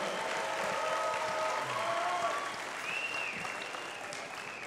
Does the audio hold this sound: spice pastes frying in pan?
no